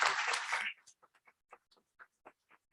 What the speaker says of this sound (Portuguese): uma salva de palmas para a Maria Adélia.